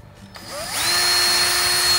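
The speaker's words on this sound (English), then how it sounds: "we'll drill a little pilot hole there first" A power drill whirs up from quiet to a steady high-pitched spin, running loud and close as it bores a small 7/64-inch pilot hole.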